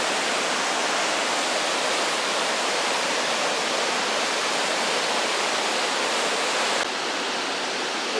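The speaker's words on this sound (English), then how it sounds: "in front of those waterfalls." Waterfalls in Johnston Canyon, Banff, roar as a dense, continuous broadband rush of falling water, loud and unbroken throughout with no voices.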